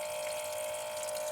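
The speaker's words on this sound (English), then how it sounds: "it's a bit splashing" Water pumped in a steady, even rush and splashing into a container while filling it in a van for hand-washing laundry, close and continuous with no talk.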